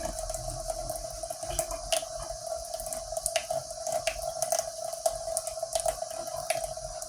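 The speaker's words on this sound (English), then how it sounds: "hold this head under the hot water" Hot tap water runs steadily from a faucet over a doll's head, a continuous close splashing hiss with small irregular spatters as the head is held in the stream.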